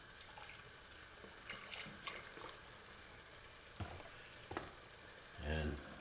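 A spoon stirs flour into a pot of Zuppa Tuscana-style soup: a soft hiss runs throughout, broken by a few scraping stirs and light clinks near the pot, ending in a louder low thump.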